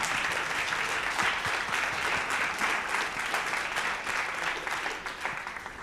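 A live audience gives sustained applause for the teams after a mock trial exercise, a dense, steady wash of clapping that holds for several seconds and thins slightly toward the end.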